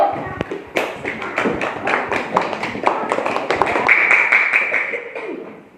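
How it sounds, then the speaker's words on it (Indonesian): A classroom group gives a round of applause for the first presenting group, a burst of hand claps and taps lasting several seconds at close range, with voices mixed in. "Tepuk tangan untuk kelompok 1."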